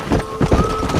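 Galloping hoofbeats from wild horses being wrangled in the Western video game Red Dead Redemption, a quick uneven run of close, heavy clip-clops lasting about a second.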